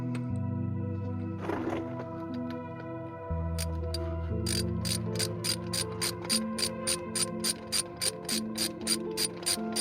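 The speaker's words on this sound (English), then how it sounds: "And then we have a 6mm Allen to tighten it all in." A ratchet with a 6mm Allen bit tightens CV axle bolts on a Porsche, first in a few scattered clicks, then a steady, close series of sharp ratcheting clicks over a low mechanical hum.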